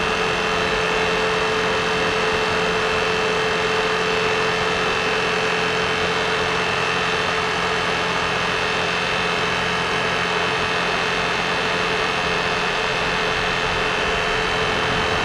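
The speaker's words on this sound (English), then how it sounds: "definitely runs a lot better with that carburetor" A carbureted engine idles steadily after tuning, a loud, even drone holding the same pitch with no talking over it.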